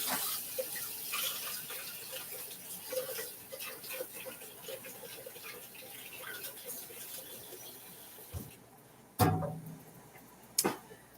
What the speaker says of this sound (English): it doesn't take it long to come to a simmer